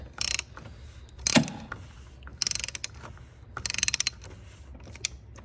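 A ratchet on a universal joint with two extensions unscrews a part on a fifth-generation Ram diesel during an oil and fuel filter change. Three quick runs of close ratcheting clicks are heard, with a single metallic clank between them.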